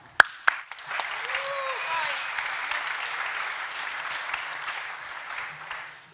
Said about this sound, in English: please applause for Katka